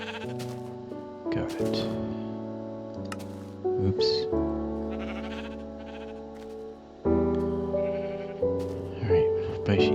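Minecraft sheep bleat several times in a row, clear wavering blats over a soft patter of rain, while a person says a few words in between.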